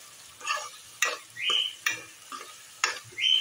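Chili powder being stirred into a red chickpea curry frying in oil, with scraping strokes of a spoon at a steady rhythm over a soft sizzle, close and clear with no talk.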